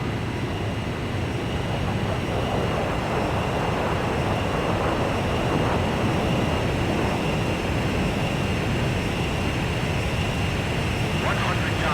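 Jet fighter engine roar in Ace Combat 5 as the aircraft closes on an aerial refueling plane, a steady broadband drone filling the whole stretch with a faint voice over radio in the background.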